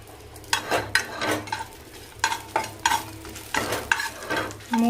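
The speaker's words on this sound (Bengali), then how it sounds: "মৌরি আর শুকনো লঙ্কাটা মোটামুটি একটু ভাজা ভাজা হয়ে গেছে।" Fennel seeds and dried chillies fry in hot ghee while a spatula stirs and scrapes the pan in quick, rhythmic strokes over a soft, steady sizzle, close and clear with no talking.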